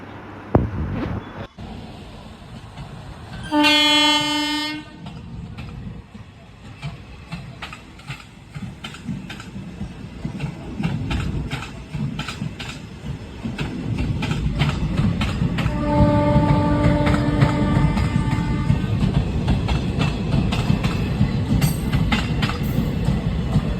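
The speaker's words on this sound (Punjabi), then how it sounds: "ਰੇਲ ਗੱਡੀ ਪਿੱਛੋਂ ਲੰਘ ਰਹੀ ਹੈਗੀ" A passing train rumbles past from behind, blowing its horn in a long blast early on and again later, while the clattering roll of the wagons builds to a steady roar.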